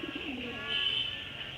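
Pigeons coo softly in a loft, low throaty calls rolling over a steady high hiss of background noise, with a faint voice nearby.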